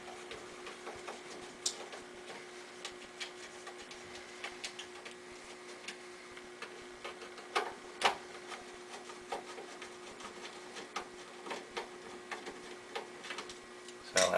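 Phillips screws are worked loose from the delivery port of a stack soda vending machine, giving small scattered clicks, scrapes and metallic ticks over a low steady hum, fairly close.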